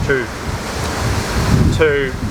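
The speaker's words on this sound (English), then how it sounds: "getting really windy" Loud, steady wind rushes and buffets against the microphone, with faint tonal squeaks near the start and end.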